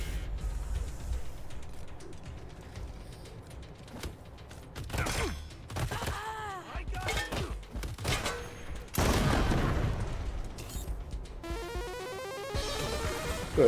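Shotgun fire in the video game Wasteland 3, with repeated sharp blasts, creaks and mechanical rattles through a dense combat soundscape, including a heavier volley partway through.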